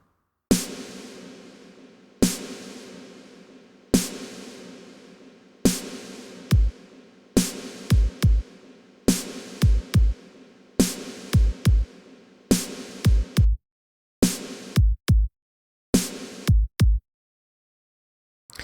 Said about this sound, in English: snare with that reverb